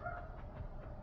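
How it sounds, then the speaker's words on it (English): A dog barks faintly a few times in the background over a steady low rumble. "please excuse the dog in the background."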